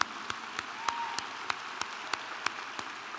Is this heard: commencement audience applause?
yes